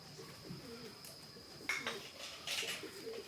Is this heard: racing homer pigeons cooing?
yes